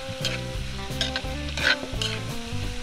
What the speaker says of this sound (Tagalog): Sabay na natin yung taba sa paggisa